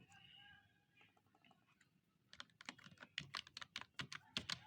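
Quiet typing on a computer keyboard, irregular soft key clicks building into a quicker run of taps, close up, with faint background noise at the start.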